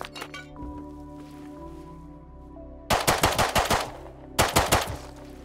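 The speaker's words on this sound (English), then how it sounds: "It was a nail gun, close enough." Rapid nail gun shots in the survival video game Rust, two close, loud bursts of quick sharp cracks after a quieter stretch of background game sound.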